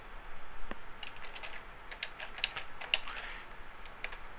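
Fingers type text on a computer keyboard in a quick, irregular patter of light keystrokes, close and steady with no talking.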